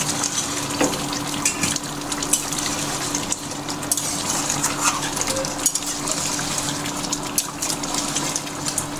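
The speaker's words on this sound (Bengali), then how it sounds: "ঢাকনা খুলে মাঝে মাঝে এরকম একটু নেড়ে দিতে হবে যাতে নিচে লেগে না ধরে" A pot of chicken and potato curry being stirred, with wet bubbling, clinks and scraping from the spoon under a steady simmering hiss, close and moderately loud with no talk.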